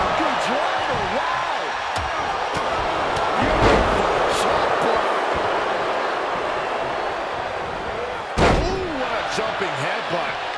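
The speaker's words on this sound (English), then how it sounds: "Jumping headbutt." A jumping headbutt lands in a WWE 2K23 tag-team match, a loud slamming thud near 3.7 seconds and another sharp impact near 8.4 seconds, both over steady arena crowd noise and commentary.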